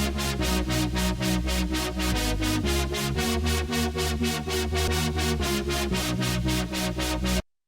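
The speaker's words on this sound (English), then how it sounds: "I decided to add some kind of a, well, stabby synth." Stabby super saw synth pulses in fast, even rhythmic chops from a volume LFO, loud and bright over a full electronic backing track, then cuts off abruptly.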